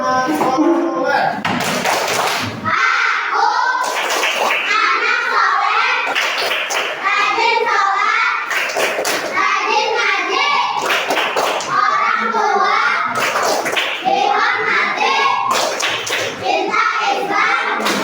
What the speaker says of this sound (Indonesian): coba anak-anak berdiri sekali lagi. Tepuk tangan soleh.